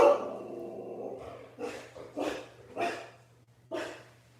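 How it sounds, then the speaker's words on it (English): A pet dog barks four times in short, separate bursts at moderate distance, following a brief murmur of other sound, with a steady low hum running underneath throughout. "My dog is barking."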